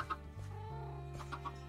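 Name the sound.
chicken clucking in the video game Minecraft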